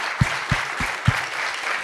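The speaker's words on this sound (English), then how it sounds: "give a round of applause to the very excellent panel next to me" A conference audience at a Bitcoin mining and energy event responds to a panel. Four soft, evenly spaced thumps are heard over a steady hiss of room noise, sounding more like scattered taps than full, dense applause.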